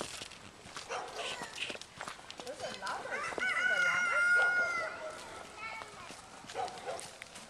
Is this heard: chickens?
yes